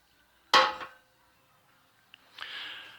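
A hammer strikes a sheet metal drain pan resting on a piece of railroad iron. One sharp metallic clang rings out in a quiet workshop, followed a moment later by a small tick and then a softer ringing scrape.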